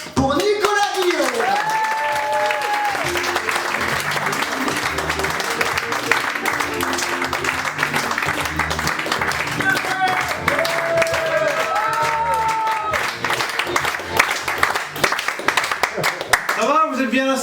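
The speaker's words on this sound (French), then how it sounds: "un tonnerre d'applaudissements pour Nicolas Guillaume" Loud, sustained applause from a comedy-show audience welcoming a comedian, with some music playing underneath throughout.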